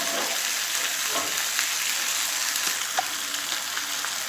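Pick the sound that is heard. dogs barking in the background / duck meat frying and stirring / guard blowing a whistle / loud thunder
duck meat frying and stirring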